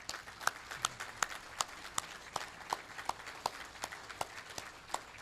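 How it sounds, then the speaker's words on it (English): Light applause for award winners and a family at a 50th anniversary awards reception, heard as faint, sparse claps at a steady, even pace, with no voices over them. "let's make sure we give a big round of applause to A, the award winners, and B, the Snider family."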